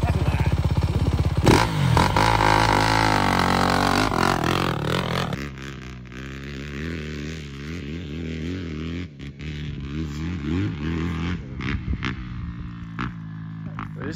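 A brand new dirt bike engine revs hard, loud and close, then drops to a rougher idle with repeated throttle blips, while people talk over it.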